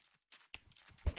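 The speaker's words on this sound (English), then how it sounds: "Hey, your footsteps." Minecraft Skywars player footsteps sound as a few soft, quick, uneven taps, faint and close. The last one is slightly heavier.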